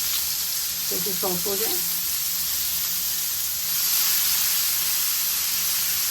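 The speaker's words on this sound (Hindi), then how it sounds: "उसके अंदर ये 1 डली में बस प्याज की ये चॉप कर डाल देंगे। प्याज को हल्का सा फ्राई करेंगे" Chopped onion frying in oil in a pan while cooking masala baingan (eggplant), giving a steady, moderately loud broadband sizzle throughout, with a short burst of speech near the start.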